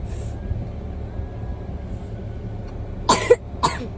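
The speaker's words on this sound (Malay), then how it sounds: "Batuk lagi tu." Two short, harsh coughs from a person stand out near the end over a low, steady background rumble of passing traffic, fairly close and loud.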